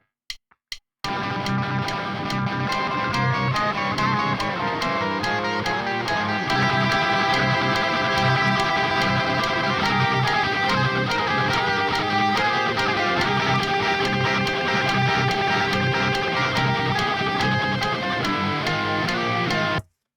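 Electric guitar plays the ending of a song, a dense, loud, sustained distorted riff that runs steadily for about nineteen seconds after a few brief opening picks, with no talk.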